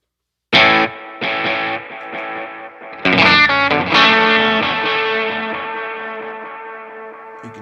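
Electric guitar through a tape delay effect with adjustable wear and mechanics, a few strummed chords and notes ringing out with smeared repeats and long warbling decay, close and alone.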